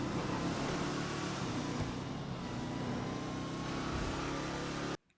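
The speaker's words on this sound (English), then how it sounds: "the exhaust just sounds like an old muscle car too" A steady, rumbling video game muscle car engine drones continuously at a loud level, with a low exhaust growl, then cuts off abruptly near the end.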